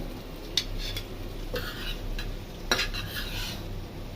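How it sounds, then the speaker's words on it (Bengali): Small jatka fish fry in mustard oil with a soft continuous sizzle and occasional metal utensil clicks against the pan, fairly quiet and close, with no talking. "এই যে দেখতে পাচ্ছেন সরিষার তেল দিয়ে ফিশ ফ্রাই"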